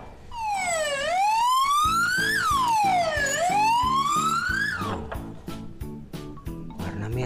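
A red ambulance siren wails loudly and close, sweeping up and down in long rising and falling tones before switching to a rapid, pulsing pattern that repeats to the end.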